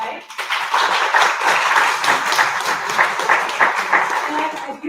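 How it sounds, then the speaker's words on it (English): An evening heritage-night audience gives a full round of applause, dense and fairly loud clapping that rises quickly and holds with slight swells before tapering at the end. "Let's have a round of applause to start off tonight."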